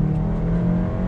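A 2021 Kia Seltos SX's 1.6-liter turbo engine pulls under throttle through its 7-speed DCT, a steady, loud in-cabin engine drone with a strong low hum and no pause.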